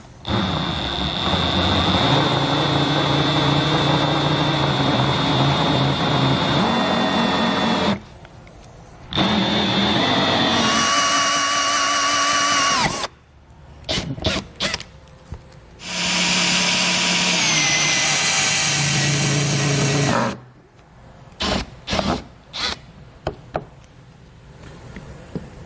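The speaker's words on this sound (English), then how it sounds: "When cutting on plastic, if you use the hole saw backwards, it can cut a little bit cleaner as it won't dig in and tear the plastic." A hole saw cuts holes in plastic trim during a trailer hitch install, running backwards for a cleaner cut: loud, sustained high whining bursts of several seconds each, separated by short pauses and brief stuttering blips of the drill.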